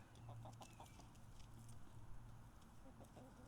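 Backyard chickens clucking softly at a distance outdoors in a garden, faint low calls against a steady background hum, with a voice briefly under them.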